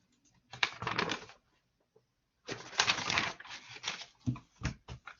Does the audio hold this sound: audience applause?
no